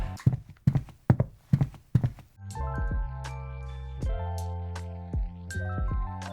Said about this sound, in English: it plays the footstep sound